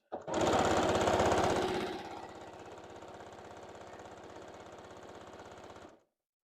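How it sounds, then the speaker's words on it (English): A sewing machine stitches around the edges of a qaspeq vest in a fast, rapid mechanical chatter, loud and close for the first two seconds, then running more softly and steadily before stopping abruptly. "When you sew around edges, you leave the needle in and you pick the foot up and you sew around."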